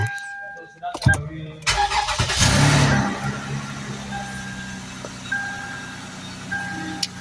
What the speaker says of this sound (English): let me start the car anyway